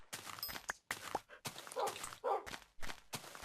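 Dogs in the Minecraft game yip and bark in quick, close bursts, a choppy series of short calls with small gaps between them.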